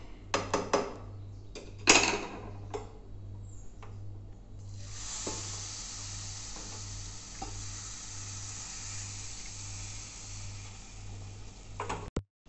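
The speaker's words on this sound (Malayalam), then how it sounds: "ഇതിലേക്ക് ഒന്നേകാൽ കപ്പ് തിളച്ച വെള്ളം ഒഴിച്ചു കൊടുക്കാം" Boiling water is poured into roasted rava in a hot pan, setting off a loud burst of sputtering and crackling that settles into a long, steady sizzle, with a few scrapes and clanks of a spoon against the pan.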